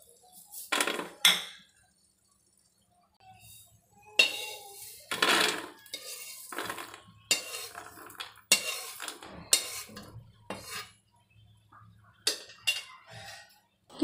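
A pan of shelled peanuts, just roasted on the stove, is lifted off the heat: scattered metallic clinks, knocks and scrapes of pan and utensils in short bursts, close and fairly quiet, with no talking.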